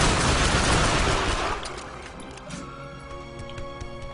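Gunfire in The Darkness 2 during dual-wielded shooting, a dense, loud burst of rapid shots that fades after about a second and a half into sparser clicks and mechanical ticks with a low hum.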